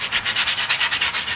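A small sanding pad rubs flashing off a 1.75-inch canister shell mortar, a close, loud rasping scrape in quick, even back-and-forth strokes, about a dozen in a row.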